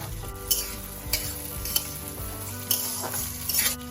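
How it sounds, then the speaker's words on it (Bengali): Carrots and beans frying in a pan for fried rice, a continuous sizzle broken by several sharp scrapes and clinks of a spatula against the pan, close up with no talking. "সবজিগুলি ভেজে নেব সবার প্রথমে দেব গাজর এরপর দেব আমি বিনস"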